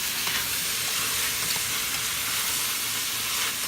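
Louisiana-style red beans sizzle and bubble in a pot as they are stirred, a steady, close frying hiss with faint utensil scrapes and no talking.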